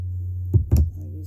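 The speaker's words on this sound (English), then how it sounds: "so snip that off" Scissors cut leftover yarn from a crocheted kimono baby bootie: two quick, close snips about a fifth of a second apart over a steady low hum.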